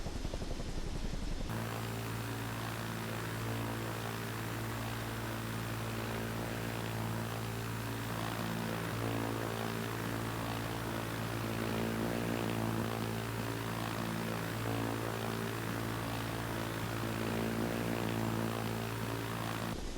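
A loud, steady whine and throbbing drone of a CH-47D Chinook helicopter's engines and rotors taxiing in Microsoft Flight Simulator 2024, continuous and close, without any talking.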